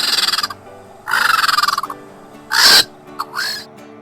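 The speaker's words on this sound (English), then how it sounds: "Vulture." A vulture calls in a series of loud, harsh, rasping croaks and hisses, several separate bursts delivered close up with short gaps between them and no other sound around them.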